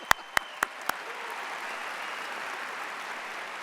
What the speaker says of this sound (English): Now I like your applause.